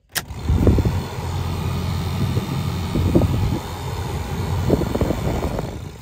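Steady whirring drone of the blower motor in a 1993 Toyota pickup with 235,000 miles, which runs slower on third speed than second, running continuously at moderate loudness with faint low rumbles and knocks.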